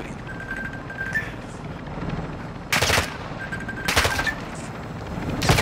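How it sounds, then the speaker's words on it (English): Bursts of automatic gunfire in a Call of Duty military battle, two sharp volleys of several rapid shots each over a steady hum of background battle noise, with faint distant reports between them. "You're taking effective fire."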